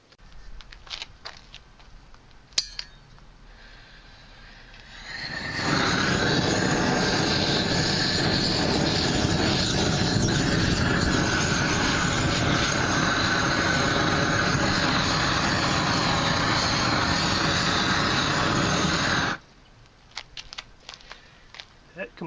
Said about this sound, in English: So it looks like it will definitely burn anything, including weeds.